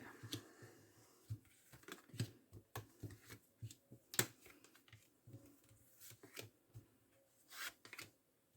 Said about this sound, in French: Allez, on va faire le tirage à 9 cartes.